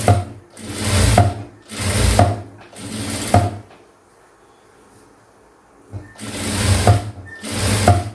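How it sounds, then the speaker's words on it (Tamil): A sewing machine stitches a blouse in short, loud rattling bursts at a regular pace, pausing for a few quiet seconds before two more close runs. "ஃபுல்லாக தையல் போட்டுக்கலாம்"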